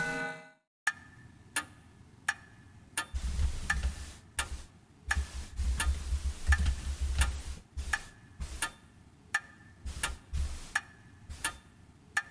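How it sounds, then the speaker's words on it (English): An antique grandfather clock in the game Spirit Hunter: Death Mark ticks steadily, sharp regular clicks about a second apart, with a low rumbling hum swelling underneath partway through. "Silence descends, broken only by ticking."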